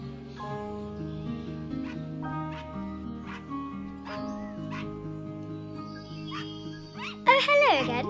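A dog gives a few sharp yelps and whimpers near the end, rising loudly above a continuous bed of soft sustained music.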